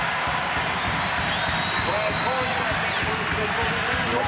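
Crowd noise fills a college basketball arena during an SIU–Creighton game, a steady roar of cheering and shouting that stays loud and continuous throughout, with a few high whistles cutting through the din.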